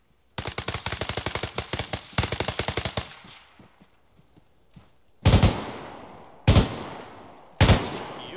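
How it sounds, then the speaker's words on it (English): An M240 machine gun fires at a range in the ArmA 3 video game, heard first as two fast, loud bursts of rapid shots and then as three single booming rounds, each with a long echoing tail. "he's shooting the 240 at the shooting range"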